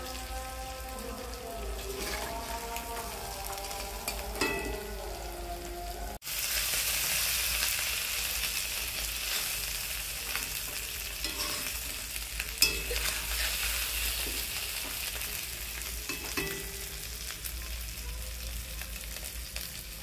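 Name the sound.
small puti fish frying crisp in oil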